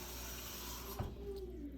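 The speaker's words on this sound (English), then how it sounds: "I'm going to put a little bit more water" Water poured from a tap or cup into a cooking pot on a stove at medium-high heat, a short steady splashing flow with a brief louder gush near the middle, heard close and alone.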